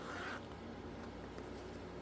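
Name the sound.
zipper of a bag being closed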